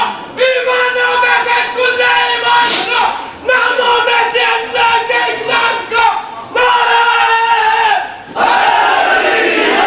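A large crowd chanting religious slogans in unison during a religious sermon gathering, loud repeated calls in three long swells with brief pauses between them.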